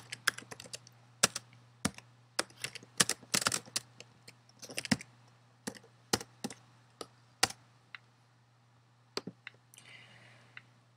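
Keys clack on a computer keyboard in uneven bursts, some quick runs and some single taps, close by against a faint steady hum.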